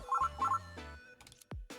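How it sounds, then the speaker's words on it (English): A cheerful phone ringtone from a mobile phone in the Honkai game, appearing as short bright melodic notes that sound alone, with no talk over them. "Just then, a cheerful ringtone broke silence."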